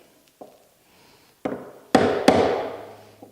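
A chisel chops out the waste between hand-cut dovetails in wood, with a handful of separate sharp knocks that grow louder and come closer together, each ringing briefly in a quiet room.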